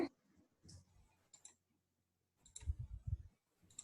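Computer mouse clicks come in short, crisp bursts separated by stretches of near silence, with a denser cluster of clicks in the second half.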